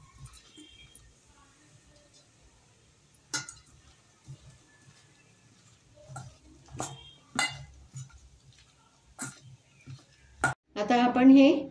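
A spoon stirs yogurt into mushroom masala in a pan, scattered scrapes and clinks against the metal under intermittent talk, ending in a short burst of louder scraping.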